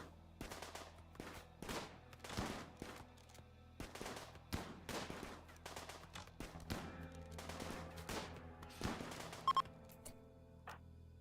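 Faint, distant gunfire from the video game RimWorld pops in scattered single shots and short clusters, spread steadily across the whole stretch with no talking.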